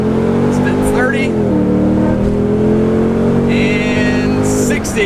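Mercedes C43 AMG accelerating hard on a 0-60 mph run, its engine droning loud and steady with rising, shifting harmonic tones, heard from inside the car along with a brief beeping chime near the end.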